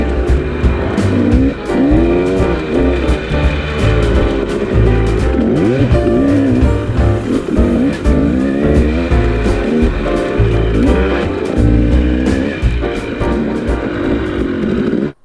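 Dirt bike ridden on a motocross track, its engine loud and close, revving up and down through the gears in a continuous stretch before cutting out abruptly at the end.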